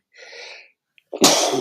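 A person sneezes once, close and loud, with a short drawn-in breath and a faint catch just before the sharp burst.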